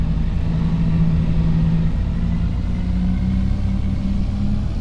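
A steady, low engine rumble drones throughout, a heavy video-game truck idling and revving slightly, loud and close with no voices.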